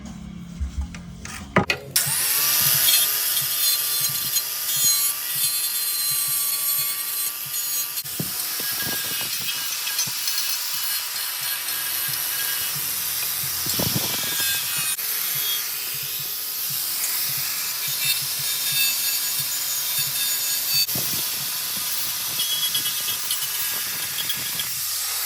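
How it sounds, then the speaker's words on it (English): Harsh, loud hiss of a grinder smoothing the rough edges of cut plastic for a stunt car oil pickup mod, a continuous abrasive roar with brief pauses and surges, no speech. "I figured I'd do this with a grinder just to show"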